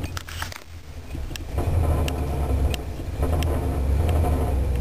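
Car engine idling with a rough exhaust rumble, a low steady throb that rises after a moment and holds close to the tailpipe, with faint ticking over the top and no talk.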